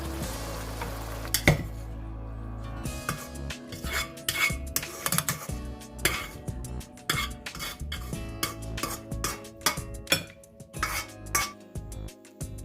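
Beef basil stir-fry with baby corn and spring onion being scooped from a pan onto a plate, with repeated close metal scrapes and clinks of a spatula against cookware and dish over about twelve seconds.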